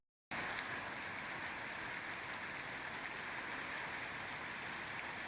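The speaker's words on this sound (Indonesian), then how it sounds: "dengar nggak sih bunyi rintik-rintik gitu? Nah, ini menandakan bahwa ini lagi hujan" Light rain patters steadily as a soft, continuous hiss of fine drops, even and unbroken from start to finish, with no other sounds.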